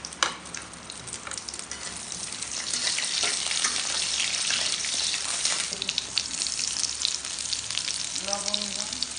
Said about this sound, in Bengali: শুকনো ঝাল, জিরে, লবঙ্গ, দারুচিনি, এলাচ, এগুলো সব ভেজে নিয়ে একটা মশলা তৈরি করব